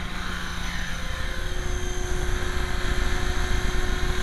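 A 500 class RC helicopter flies outdoors, its rotor and motor making a steady, loud whirring drone with a sustained high whine, heard alone with no voices.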